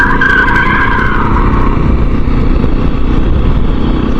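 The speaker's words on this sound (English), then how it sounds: "somebody out having fun in their Beamer, doing donuts" A BMW car doing donuts nearby, its engine roaring steadily as the tires squeal in a sustained skid, loud and continuous with no pauses.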